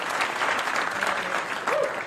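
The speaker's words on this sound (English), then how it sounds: "Keep the applause to yourself." A comedy club audience breaks into loud, continuous applause that stays steady throughout, with a voice briefly audible over the clapping.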